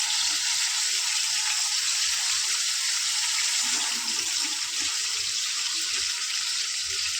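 Egg added to a pan of sautéed tomatoes, with a steady, loud, hissing sizzle that runs unbroken from start to finish and no talking.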